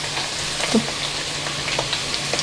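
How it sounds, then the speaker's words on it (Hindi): Onions hit hot oil with whole garlic for beef karahi, giving a dense, even sizzle with a couple of small pops and a light stir, close and without talk. "तो देखिए प्याज हमने इसमें ऐड कर दिए हैं। अब प्याज़ों को साथ ही इसके फ्राई कर लेंगे।"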